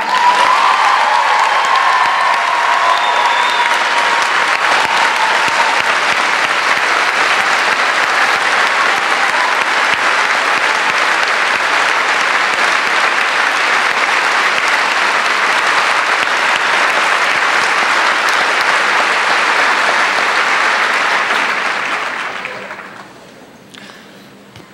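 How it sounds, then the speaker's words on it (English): A political rally crowd of teachers claps in loud, dense applause that holds steady for about twenty seconds before quickly fading out. "Please keep clapping, it keeps me awake."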